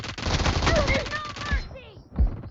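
Rapid bursts of gunfire from a PUBG Mobile match ring out loud and close, with sniper shots among them, dense for over a second and a half before thinning into a few sparser reports.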